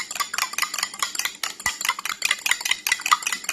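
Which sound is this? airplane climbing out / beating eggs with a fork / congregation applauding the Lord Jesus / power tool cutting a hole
beating eggs with a fork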